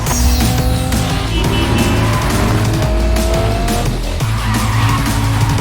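In Cyberpunk 2077, a 4-liter six-cylinder car roars and accelerates hard with tire squeal and skidding, its engine loud and close throughout, shifting pitch as it revs, with no talk.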